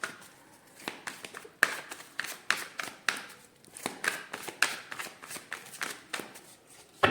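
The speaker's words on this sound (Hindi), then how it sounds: "अच्छा नहीं, और एक बार शफल कर लेते हैं" Tarot cards are shuffled by hand in repeated quick riffles and taps, a crisp papery rhythm of bursts with short pauses, close and clear.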